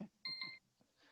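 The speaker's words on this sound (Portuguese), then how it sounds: "Meu alarme não desliga mais." A timer alarm rings in short electronic beeping bursts, a bright two-tone tone sounding close and moderately loud with gaps between pulses.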